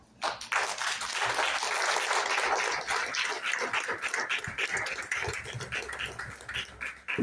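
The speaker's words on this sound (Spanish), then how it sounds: "¿Cuántos pueden darle un aplauso al Señor?" A church congregation breaks into applause for the Lord during a sermon, a dense wash of many hands clapping that swells in quickly and holds steady, with scattered voices underneath.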